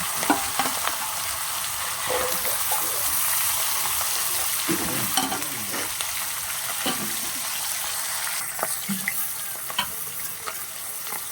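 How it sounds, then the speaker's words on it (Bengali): Fish heads fry in hot oil in a kadai wok, a continuous loud sizzle broken by scraping and clattering stirs and flips, with no talking. "এবার কড়াইতে যে তেল আছে সেই তেলে আমি আবারও যে মাছগুলো ছিল সেই মাছগুলো আমি আবারও দিয়ে দেবো।"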